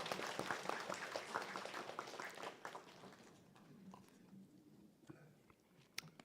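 Scattered clapping from a small church congregation during a Sunday service, dense at first and then thinning into a few isolated claps, with faint murmuring in the background.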